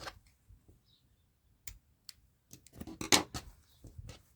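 Scissors snip yarn close by after a crocheted toy's stuffing, a few quiet clicks, then a cluster of soft cuts and rustling near the end, with no talking.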